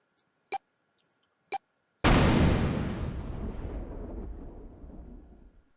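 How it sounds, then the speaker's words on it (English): A loud explosion from the video game 999: Nine Hours, Nine Persons, Nine Doors, a sudden deep blast that rumbles and slowly decays over several seconds, preceded by two brief faint clicks. "The explosion rocked the room."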